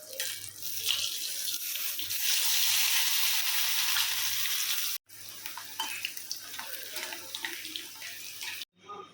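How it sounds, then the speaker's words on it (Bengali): Sliced eggplant, potato, pointed gourd and beans fry in oil in a kadai, a loud, broad, continuous sizzle and hiss with brief stirring clatter and two short cut-offs. "তো এই 3টে ভাজা আমি চটপট করে আগে ভেজে নিই।"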